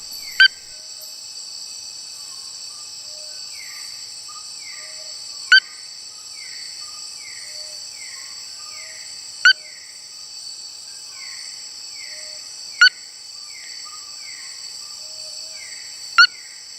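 Jungle frogs call at night in Sabah's lowland rainforest: a steady high insect-like drone with repeated falling chirps and sharp clicking calls every few seconds, fairly loud and without voices.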